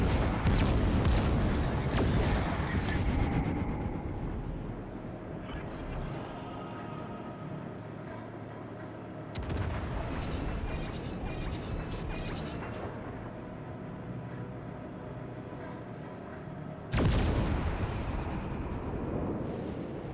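Anti-aircraft guns fire in the naval battle game World of Warships: Legends. Several heavy booms go off in rapid bursts at the start, then single loud blasts come later, each trailing off into a long rumbling decay.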